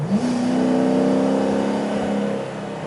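A modified Chevy Caprice police car with XR1 mufflers revs close by, its engine note climbing quickly, holding a strong droning tone, then easing off, with no talking.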